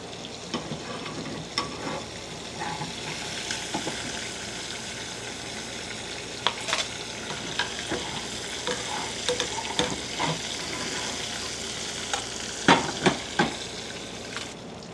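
Shrimp sauté in leftover frying oil, a constant sizzle with stirring scrapes and clicks scattered throughout, fairly close and loud, no voices.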